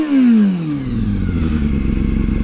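A 2006 Kawasaki ZX-6R 636 sport bike with 6,000 miles on it revs loudly up close, its pitch dropping from a high rev into a rough, pulsing idle.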